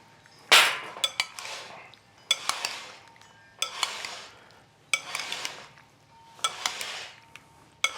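A spoon stirs glossy coated strawberries in a bowl in slow, gentle passes, with about six sharp metallic clinks against the bowl at regular intervals and soft wet sloshing between them, close and clear.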